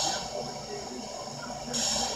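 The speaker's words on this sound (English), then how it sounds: "And uses the default steam sounds." Default steam locomotive sounds from the Trainz simulator game, heard on a BR Standard 2MT engine, give a continuous hissing steam wash with a faint mechanical undertone that swells briefly louder near the end.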